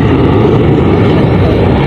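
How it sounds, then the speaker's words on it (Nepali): An airplane flies overhead near an outdoor football match ground, heard as a loud, steady, broad roar that holds evenly for the whole stretch with no talk over it. "अहिले प्लेन उडिरहेछ"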